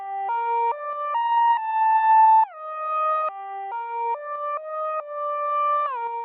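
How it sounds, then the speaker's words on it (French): A dark synth pad plays a looping sequence of long sustained notes, stepping between pitches with smooth glides, clean and alone with no other sounds. "j'ai choisi un pad, un instrument qui joue des notes assez longues, et on va lui faire jouer une boucle avec des aspects un petit peu malsains"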